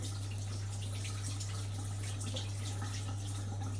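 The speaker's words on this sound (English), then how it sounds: "And then wash your hands. Most definitely wash your hands." Hands washed under a running water tap, a steady close rush of water with a constant low hum beneath it and no speech.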